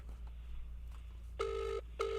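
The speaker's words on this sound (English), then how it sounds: "It's ringing all funny because he's foreign" A phone call to North Queensland produces a ringback tone heard as two steady electronic tone bursts, each about half a second long, over a faint low hum with quiet background noise before them.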